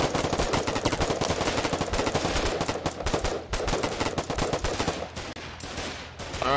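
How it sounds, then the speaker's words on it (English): Video game gunfire: dense, continuous rapid automatic shooting with loud repeated bursts that run almost without pause, alone and with no talk. "Yep, shoot it, light it up."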